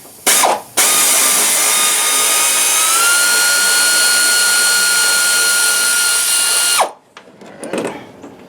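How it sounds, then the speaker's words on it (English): Air ratchet on a 1997 Dodge Ram spinning off 10 mm bolts during power steering work: one loud, steady pneumatic whir lasting about six seconds after a short burst, close up, with no talk. "I've got it on my air ratchet here"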